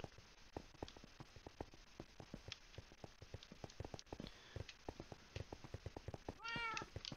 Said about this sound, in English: I heard a cat upstairs, I think.